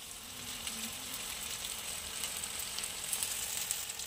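Boal fish curry, a leaf-wrapped preparation, cooks under a lid on high flame. A faint, steady sizzle and bubbling runs continuously without talk.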